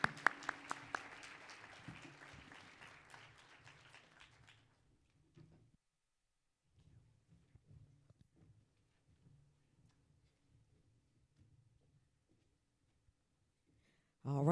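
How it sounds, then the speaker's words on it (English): Audience applause at a tourism summit's opening panel session, a dense clapping burst that fades out over the first five seconds, followed by faint scattered room noise and a brief swell at the end. "let's give another big round of applause to Justin"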